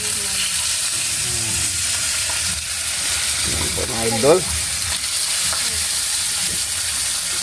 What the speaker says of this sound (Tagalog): Saka yung magprito po ako.